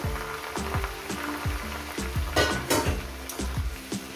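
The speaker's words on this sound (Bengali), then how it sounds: "যেরকম শাক ভাজা করেন সেইভাবে আমি রসুনের সঙ্গে ভেজে নেব" Mustard greens frying with garlic in a pan give a constant crackling sizzle, punctuated by regular scraping strokes of a spatula stirring every half second or so, close and without talk.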